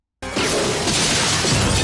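Glass shattering in the dinosaur film Jurassic Park: after a brief silence, a sudden loud, sustained crash of breaking glass fills the whole moment, with no voices over it.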